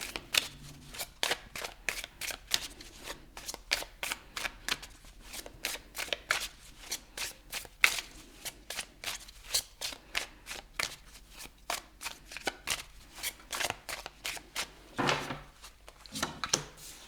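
Tarot cards shuffled by hand in a long run of quick, crisp riffles and slaps, close and steady, with a few soft thumps as cards are pulled from the deck; no talking.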